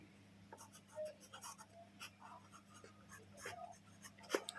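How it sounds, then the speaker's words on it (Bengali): A pen scratches out an answer on paper in a schoolbook, with a steady run of short strokes and scrapes, close and soft, and a faint hum underneath. "আমি উত্তরটা তার পাশেই লিখছি"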